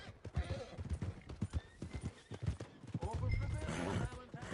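Horses at video game stables clop with rhythmic hooves and give a neigh, close by, while a voice talks over part of the scene.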